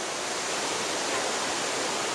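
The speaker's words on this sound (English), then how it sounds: "We found the waterfall that we tried to find a year and a half ago." A waterfall at the end of a short woodland hike gives a steady, loud, unbroken rush of falling water, heard up close with no voices.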